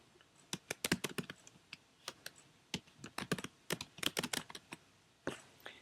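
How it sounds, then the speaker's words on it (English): Name typed on a computer keyboard, with rapid, irregular close-up key taps and short pauses between bursts, loud and alone. "the first thing that I'm going to do is type my name"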